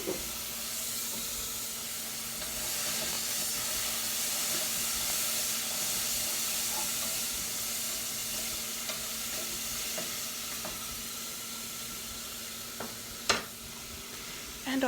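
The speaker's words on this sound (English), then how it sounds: "next, I'm going to be adding my pasta sauce" Target brand mushroom and green pepper pasta sauce sizzling in a hot pan, a steady close hiss that lasts throughout, with a few faint utensil taps near the end and no talk.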